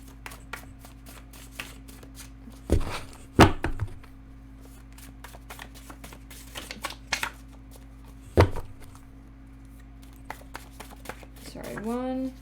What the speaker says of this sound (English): I haven't been shuffling regularly.